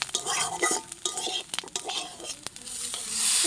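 Semolina frying in a hot pan for a healthy diet vegetable dish, stirred with a utensil: steady close sizzle under repeated scraping and clinking strokes, with no talking.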